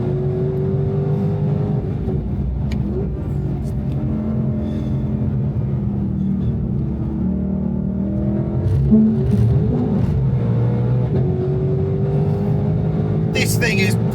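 A Ford Mustang GTD drives on a track, its engine droning steadily with a rising pitch as it picks up speed, loud and close throughout, with a brief surge of revs near the end while someone talks over it.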